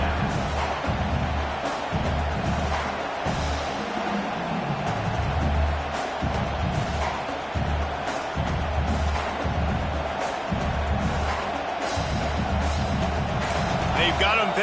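A football stadium crowd makes a steady, loud roar and murmur throughout, while a commentator talks over it.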